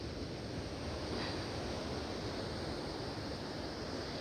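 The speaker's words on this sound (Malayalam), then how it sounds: "അങ്ങോട്ട് നോക്ക് എത്ര പൊക്കത്തിലാ തിരമാലകൾ വരുന്നൊക്കെ" Ocean waves breaking on a beach, with high surf rolling in, form a steady, loud wash of surf and wind with no talk.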